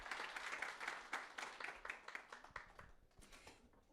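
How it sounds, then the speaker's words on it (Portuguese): An audience at a panel event on sport and environmental sustainability gives a short round of applause, distinct claps at first that fade and thin out toward the close. "Palmas para o Rodrigo"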